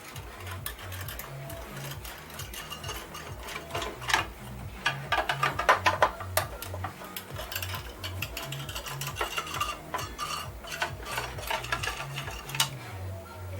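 Screws are loosened from the heatsink assembly of a Dell desktop computer, producing a steady run of small rhythmic ratcheting clicks up close, with faint handling noise and no talk.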